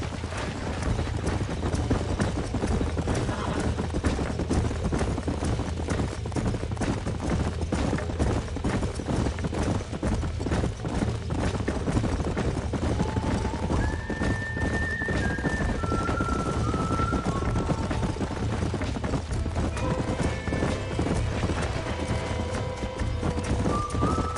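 In the video game Red Dead Redemption, steady hoofbeats clatter from horses on the move, with occasional whinnies and neighs rising over the continuous galloping.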